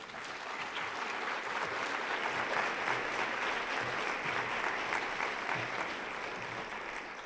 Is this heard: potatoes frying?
no